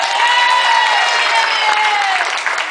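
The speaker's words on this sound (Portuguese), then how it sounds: "Senhor Luiz, palmas pra ele." Crowd applause with cheering at a category medal ceremony, loud and steady throughout, with whistles and shouts rising over the dense clapping.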